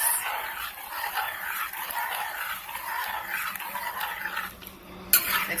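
Chickpea masala sauce with Scotch bonnet and Himalayan salt is stirred in a pot, a soft scraping, clinking swirl of spoon against metal, moderately close and steady, ending in one sharper knock.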